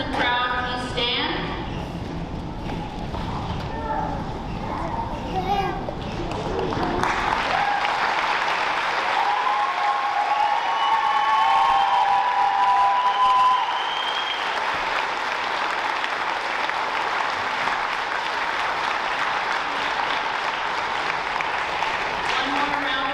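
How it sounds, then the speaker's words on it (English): Graduation ceremony crowd applauding after a call to honor an enlisted Army graduate and veterans, sustained steady clapping filling most of the stretch, with a voice speaking over the early part. "One more round of applause for his noble career choice."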